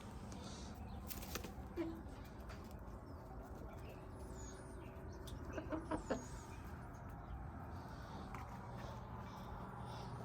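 Chickens in their coop cluck faintly and intermittently against a steady background hiss, with a few brief clustered calls and what may be wing flaps, distant and quiet.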